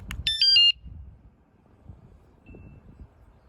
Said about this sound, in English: when you unlock the device, it'll make 3 higher pitched sounds, but it will not follow through with a medium tone.